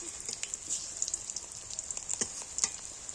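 Eggplant fries in hot oil with a soft, steady sizzle and scattered crackling pops, faint and close, with no voices.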